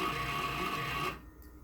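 Weber Key coffee grinder motor running at its fastest speed, a steady close whirring hum that cuts off abruptly after about a second.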